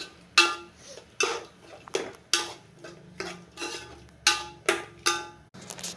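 Spices such as chilli powder and biryani masala being stirred into a metal pan, a spoon clanking and scraping against it in a steady rhythm of about a dozen sharp, close knocks with no one talking.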